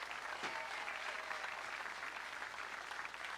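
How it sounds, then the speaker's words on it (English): Steady applause from a crowd fills the whole stretch, an even wash of many hands clapping at moderate distance with no voices standing out. "give them a nice round of applause before they even sing?"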